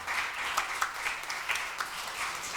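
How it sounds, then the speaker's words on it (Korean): An audience at a Korean literature session with novelist Jeon Sung-tae applauds steadily, a continuous wash of many clapping hands with a few sharper individual claps standing out. "박수 쳐주세요."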